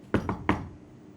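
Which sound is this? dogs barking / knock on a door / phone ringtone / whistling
knock on a door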